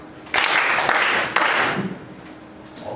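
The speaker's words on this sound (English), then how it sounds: "So clap for yourself." Students in a classroom clap for themselves in two short bursts of applause, the first starting sharply and the second fading out, with quieter room tone between.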